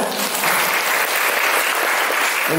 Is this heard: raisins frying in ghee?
no